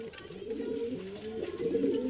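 A female Lalziria pigeon coos softly, a low, rolling, repeated murmur heard close by in a quiet setting.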